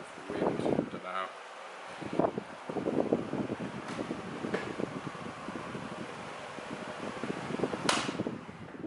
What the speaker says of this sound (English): Let's move this fan around a little bit just so the bottle's flying over. Get the effect of the wind.